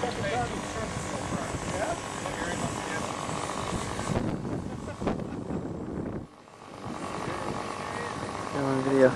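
Hangar 9 J-3 Cub RC airplane flying overhead, a buzzing propeller engine drone that rises and falls as it passes, with wind noise and people talking nearby.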